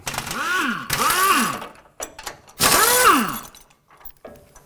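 Pneumatic air tools working loose the bolts on a truck's suspension during a lift kit install, with several whirring, rising-and-falling bursts in a garage, each lasting about a second and separated by short pauses.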